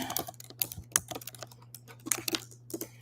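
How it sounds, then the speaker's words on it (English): Computer keyboard keys tapped in quick irregular bursts, close and fairly quiet, over a steady low electrical hum with no talking. "Let me type hello, everyone,"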